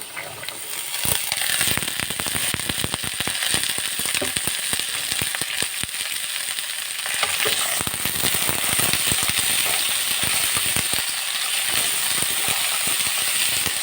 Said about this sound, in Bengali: পেঁয়াজ মরিচ আমি হালকা করে ভেজে নিয়েছি এর মধ্যে এখন কেটে রাখা আলুগুলো দিয়ে দিচ্ছি